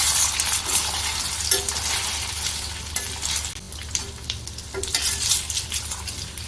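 Taro (arbi) pieces fry in ghee over medium heat, a continuous crackling sizzle with repeated stirring scrapes and light clinks of a spoon against the pan, no talking.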